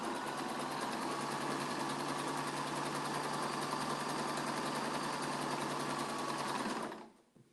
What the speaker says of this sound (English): we're just going to keep sewing, chain sewing